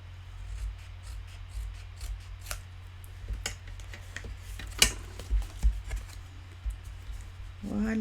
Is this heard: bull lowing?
no